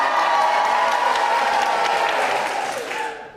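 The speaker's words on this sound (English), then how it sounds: "this time throw in a bit of clapping as well" An audience at a vocal event claps and cheers together, loud and sustained for about three seconds, then fades out.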